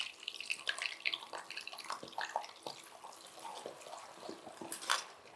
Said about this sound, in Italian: A questa aggiungiamo un poco d'acqua della pasta